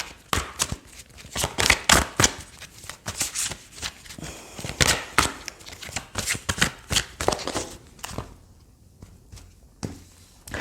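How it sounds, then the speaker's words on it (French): Gaia oracle cards are shuffled and drawn, producing a rapid run of crisp, close riffling flicks and slaps in quick bursts that thin out toward the end. "Allez, je prends une carte de Gaïa."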